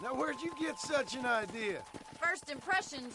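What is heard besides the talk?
None of the usual background noises is heard.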